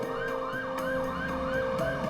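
An ambulance siren wails in a repeating rising-and-falling pattern, steady and moderately loud, with no voices over it.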